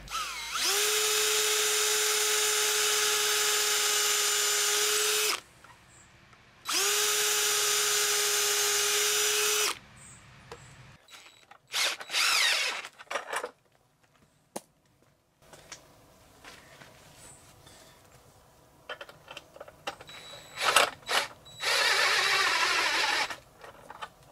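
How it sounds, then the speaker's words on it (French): A power drill bores into rough, unplaned wood in a workshop. Two sustained, loud, whining bursts of about five and four seconds are followed by scattered knocks and handling clatter, with no talking. "Maintenant que j'ai défini mon axe, je peux percer."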